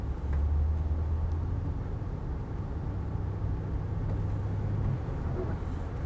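A Mercedes S420 S-Class limousine driving, heard as a steady low engine and road rumble from inside the cabin, continuous and even throughout.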